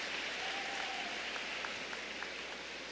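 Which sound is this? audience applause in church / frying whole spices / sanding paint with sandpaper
audience applause in church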